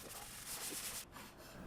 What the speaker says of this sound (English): I'm using the scraper to scrape as much off before I start using the wire brush again.